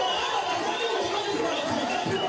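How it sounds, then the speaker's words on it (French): Thousands of spectators at a large church service applauding, a dense steady wash of clapping and crowd noise that stays loud and even throughout, with a murmur of voices mixed in. "Ils sont applaudis par des milliers de spectateurs."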